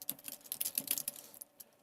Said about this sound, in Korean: 키보드에 Alt 엔터를 눌러서 줄을 한 셀 안에서 여러 줄 입력할 때는 Alt 엔터입니다